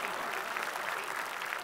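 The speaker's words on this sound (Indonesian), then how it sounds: "Gino, gimana tepuk tangan lu buat kita dong?" Studio audience on an Indonesian talk show applauds in a steady, dense wash of clapping that holds for the whole stretch at moderate distance, with no clear speech over it.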